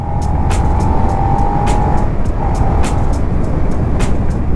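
A Suzuki SV 650 motorcycle (2018–2019) rides and brakes with the front brake, giving a steady engine drone and road rush, its whine dipping briefly and returning, with a few light clicks.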